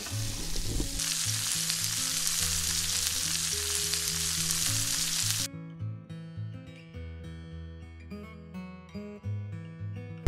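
Porterhouse steak and asparagus sizzling in a pan, a loud steady hiss of frying with soft clinks and stirring underneath, then the sizzle drops away leaving quieter clattering and bubbling.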